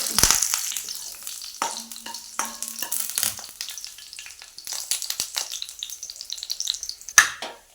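Dried red chillies and curry leaves drop into hot oil after mustard seeds have popped, for a Kerala chicken curry, giving loud bursts of crackling and sizzling with stirring scrapes, close and uneven, with no talking.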